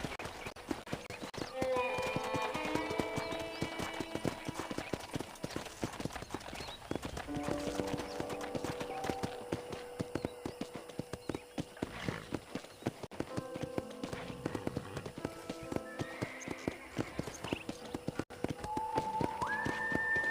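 Steady clip-clopping of horse hooves in the video game Red Dead Redemption plays throughout, with music and occasional voices layered over the rhythmic trotting.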